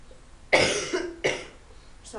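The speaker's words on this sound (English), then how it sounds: "So I'm still coughing quite a bit more than I would like to be." A woman's cough comes as two or three loud, close, raspy bursts in quick succession, with no speech over it.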